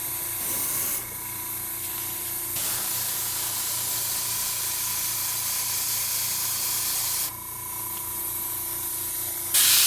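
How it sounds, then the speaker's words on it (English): An airbrush sprays brick-colored paint onto a model King Tiger tank, a loud, close, continuous hiss with two brief dips in pressure and a sharper burst at the end. "let's just get the brick color out of the airbrush"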